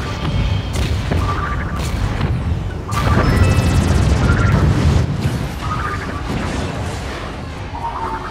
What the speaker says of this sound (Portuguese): Bomba.